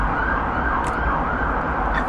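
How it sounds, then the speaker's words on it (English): A siren wails continuously at some distance over a low rumble of road traffic. "a fucking siren"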